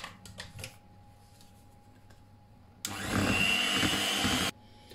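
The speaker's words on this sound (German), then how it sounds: "Und mit dem Mixer einrühren." An electric hand mixer stirring vanilla pudding-cream powder into milk, switched on partway through for about two seconds of loud, steady whirring, quiet kitchen room tone before and after.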